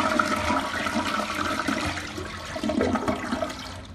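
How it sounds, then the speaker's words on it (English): A sterling toilet in a Hampton Inn hotel bathroom in downtown Washington DC flushing, a loud close rush of swirling water that continues strongly for the whole span. "we're going to go ahead and flush it"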